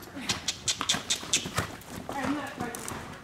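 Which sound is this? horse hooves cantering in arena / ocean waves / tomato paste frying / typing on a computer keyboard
horse hooves cantering in arena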